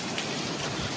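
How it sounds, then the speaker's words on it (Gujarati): Rain falling steadily at Ambardi Safari Park near Dhari, Amreli, Gujarat, a dense even hiss of drops on surfaces throughout, close and continuous with no voices. "તમે જોઈ શકો છો અમારી પાછળ અત્યારે વરસાદ થઈ ગયો છે ચાલુ."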